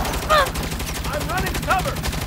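Rapid automatic gunfire in Saints Row (2022) rattles on without pause under short shouted voices throughout.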